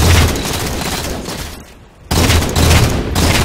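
Scattershot bursts from a weapon in Halo 4 multiplayer, loud close booming blasts filling the clip with a brief drop in the middle before firing resumes.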